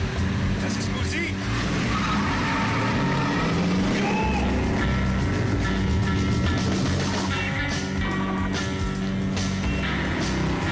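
A car driven hard with tires squealing and skidding, engine roaring close over a continuous bed of noise, while people talk over it.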